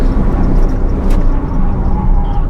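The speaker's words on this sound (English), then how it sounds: "Here we are doing 120 kilometers per hour, hard on the brakes." Loud, continuous road and tire roar as a car brakes hard from 120 km/h, a dense steady rush with no voices.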